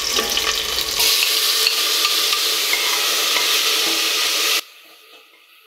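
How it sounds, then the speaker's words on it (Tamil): Onions and tomatoes sauté in a hot pan, giving a loud, continuous sizzle and crackle that cuts off abruptly, leaving faint residual hiss. "வெங்காயம் தக்காளி வதங்கிட்டு இருக்குங்க"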